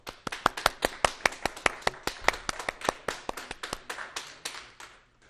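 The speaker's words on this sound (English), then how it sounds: "A huge round of virtual applause," One or two people clap in a quick, even series of sharp handclaps for an award presentation at a virtual fundraiser. The claps are close and distinct and fade slightly toward the end.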